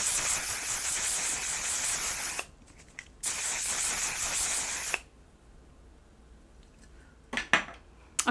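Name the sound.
spraying On Till Dawn mattifying setting spray on face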